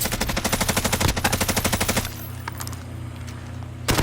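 Sustained automatic gunfire in the Warzone video game, rapid close bursts for two seconds, then quieter distant shots and ambience before another short loud burst at the end.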